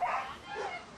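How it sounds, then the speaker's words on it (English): A puppy gives short, high yips and whimpers, fairly faint and a little distant, with a brief louder yelp at the end over a soft background hum. "Adorable puppy."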